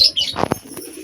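Domestic pigeons kept at home give a short, close coo mixed with a faint chirp and a quick flutter of wings, lasting about a second.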